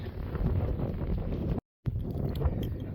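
Wind buffets the microphone on the exposed hilltop at Ger Tor, a continuous rough roar that cuts out for a moment before resuming.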